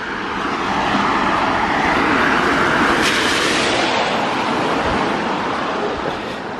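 A car passes close by on a rain-wet road, a steady broadband hiss of tyres on water that swells and fades over several seconds, with no voices.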